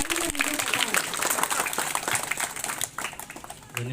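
Children clap together at a school farewell ceremony for a retiring teacher. The applause is a dense, steady crowd patter lasting a few seconds, with some voices mixed in.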